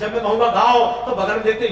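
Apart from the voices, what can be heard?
No distinct noise like a dog, phone or traffic.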